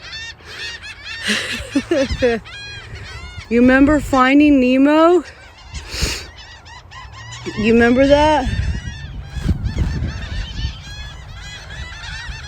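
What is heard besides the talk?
flock of birds calling at a nature preserve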